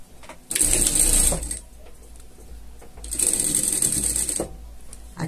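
A sewing machine stitches rib trim onto fabric for a small pet slipper in two bursts of fast, steady whirring with mechanical clatter and a short pause between them.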